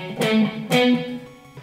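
Distorted electric guitar in a rock style plays the Mega Man III intro riff, two strong attacks with hammer-on phrasing and a sustained ringing note that fades, close and alone.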